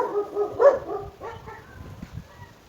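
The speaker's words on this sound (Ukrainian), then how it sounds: "поки собаки перестануть у провулку гавкати." A dog barks several times in short bursts in a lane, with a few softer yips trailing off, moderately close and without talk.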